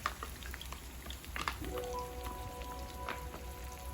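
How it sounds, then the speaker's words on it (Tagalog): Coconut milk pours into a pan of sautéed onion, garlic and ginger, giving a soft sizzle and bubbling with light drips, faint and close. "So ayan, natusta na natin and ilagay na natin ang gata."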